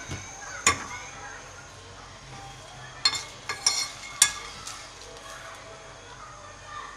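Whole red chillies frying dry in a frying pan give a faint, quiet sizzle with scattered light ticks and taps as they shift against the pan, the clicks clustering in the middle and trailing off toward the end.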